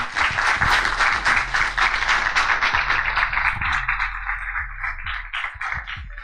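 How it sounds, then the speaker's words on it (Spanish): Steady audience applause at a lecture hall conference, dense continuous clapping from a sizable crowd welcoming a guest speaker, holding strong for several seconds before beginning to thin out toward the end. "Un aplauso, por favor, para recibirlo."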